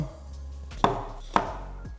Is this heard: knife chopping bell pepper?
yes